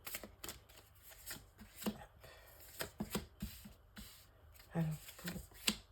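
Cards shuffled for a nine-card tarot-style reading, with quick riffling and snapping taps in irregular bursts, close and clear, interleaved with a French-speaking voice.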